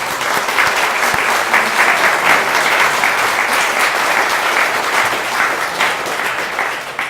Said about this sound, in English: So I just would want to give it a quick round of applause for Michael.